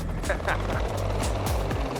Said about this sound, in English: taking off from it on a private helicopter is really taking things to another level